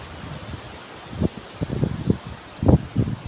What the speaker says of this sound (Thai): แต่ว่าลมมันแรงนะ